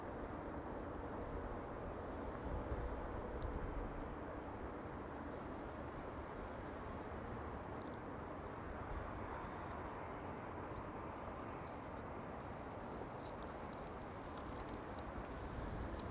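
A jet aborting its landing on runway 06 at Amsterdam Schiphol and climbing away in a go-around, heard as a steady, broad engine roar that holds at a fairly even level for the whole stretch, distant rather than close.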